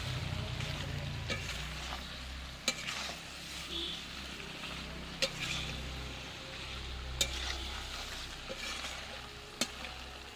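Potatoes sautéed with spices in a clay pot for a chicken dish, a soft steady sizzle under low rumble, broken by a few sharp ladle knocks against the pot at regular intervals.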